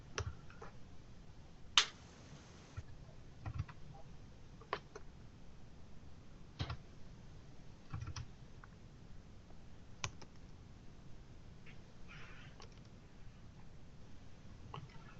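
Sparse, faint key clicks from a computer keyboard, irregular taps spread across a quiet stretch with one sharper snap-like click early on.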